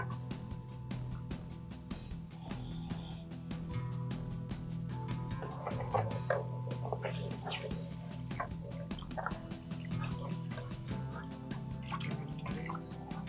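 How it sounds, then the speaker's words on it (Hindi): Water is poured into a pot of spiced curry on the stove, producing close, quiet splashing, trickling and dripping with a faint background hum. "अब हम इसमें पानी ऐड करेंगे और पानी डाल के इसको पकाएंगे"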